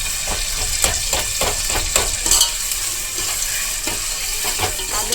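Onion and tomato sizzle and fry in a pan for chicken biryani, a steady loud crackle with repeated stirring scrapes throughout and no talking.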